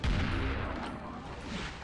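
The super shotgun in the video game Doom II fires amid a dense, noisy barrage of booming blasts, continuous and loud across the short stretch.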